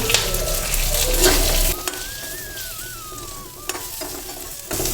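Small onions sautéing with cumin seeds in a pan for horsegram kadayal, a steady close sizzle with stirring scrapes, loudest at the start and then settling to a softer crackle with occasional utensil clicks.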